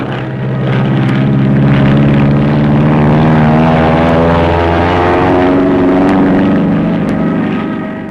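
A Grumman F7F Tigercat twin-engine fighter bomber with a loud, steady propeller engine drone and a rising and falling tone as the aircraft passes close by, heard alone.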